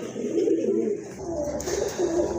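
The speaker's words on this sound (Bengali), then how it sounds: "একজোড়া কবুতর ডাক দেখান" Pigeons coo in low, throaty, repeated calls, close by and fairly steady, with no talking.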